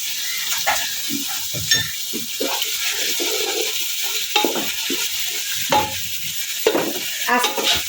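Whole cloves, cardamom, cinnamon and star anise sizzling in hot oil, with a steady frying hiss broken by irregular scrapes and knocks of a spoon against the pan, close and fairly loud.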